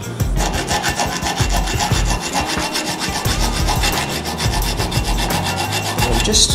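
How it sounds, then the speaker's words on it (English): A hand file rasps steadily across the edge of a copper workpiece held low in a vise with soft jaws, rounding off sharp corners in fast, even, close strokes with no talk. "I'm just taking any sharp corners and rounding off that edge"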